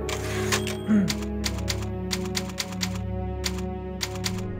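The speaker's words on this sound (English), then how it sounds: "And a typewriter." Typewriter clacking at a save point in the Resident Evil Remix fan game, a rapid, irregular run of sharp key strikes over a low ambient drone, close and prominent with no voices.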